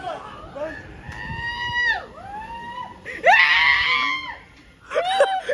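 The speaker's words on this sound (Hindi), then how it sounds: "कैसे चिल्ला रहे हो बकरों की तरह चिल्ला रहे हो" Riders scream on a Thor's Hammer 360 amusement ride. Several long, wavering, rising and falling shrieks overlap loudly, with a burst of louder yelling midway and voices mixed in.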